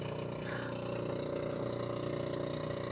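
Engine of a boat that has been hard to start, running with a steady low droning hum and a slight rhythmic pulse, moderately distant and even throughout.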